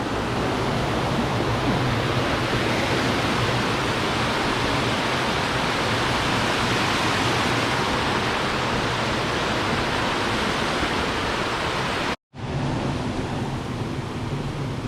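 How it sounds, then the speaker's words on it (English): High Force waterfall in a Lake District gorge, a dense continuous roar of falling water heard close from below, broken only by one brief cut. "now I'm at the bottom of the waterfall"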